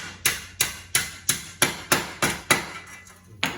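Eight sharp metallic hammer taps seat a Silverado wheel bearing shield into place, struck at an even pace of about two per second, loud and close with no talking.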